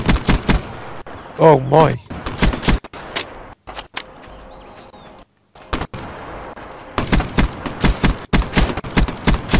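Rapid gunfire in the Nuketown map of Black Ops 3 comes in repeated close, loud bursts, with short pauses between volleys and a player's voice reacting briefly over the shooting.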